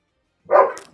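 A big dog gives a single loud, close bark, short and full-bodied, after a moment of silence.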